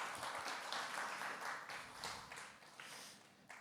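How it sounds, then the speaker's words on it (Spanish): Faint, distant applause from a church audience, a soft wash of clapping that swells and fades in uneven waves over a few seconds. "Un aplauso aquí para el caballero"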